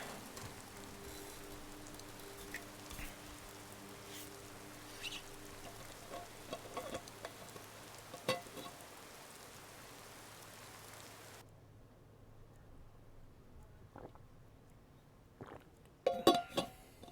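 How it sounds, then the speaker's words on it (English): Rain falling in the video game Skyrim, a soft steady hiss of drops pattering on surfaces with scattered faint ticks, cutting out near the end where a few brief louder knocks sound. "I hate that it's raining right now."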